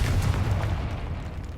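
A deep, booming blast from the Confringo spell in Hogwarts Legacy, a heavy low rumble that rolls on and fades slowly.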